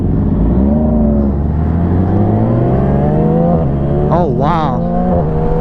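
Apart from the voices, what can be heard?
2017 Yamaha R6 motorcycle engine revving while riding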